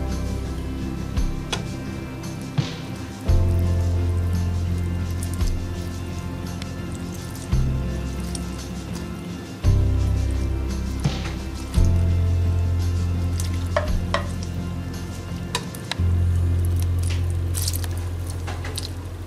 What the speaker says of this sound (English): I'm going to sprinkle this now with 200 milliliters of milk.